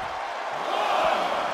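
Arena crowd in the WWE 2K24 wrestling video game, a sustained roar of cheering that swells slightly as it goes on, with a commentator's voice in the mix.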